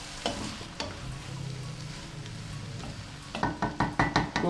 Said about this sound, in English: I'm gonna add my tomatoes, my herbs, everything at once. Mix it, stir it.